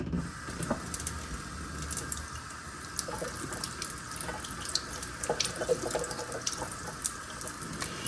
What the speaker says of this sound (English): Then I'm going to turn the water back on.